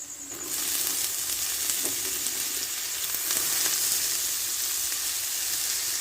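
Potatoes tossed in with onion and green chili in hot oil, a loud, even sizzle of frying that swells as the pieces hit the pan and then holds steady, close up, with no talk.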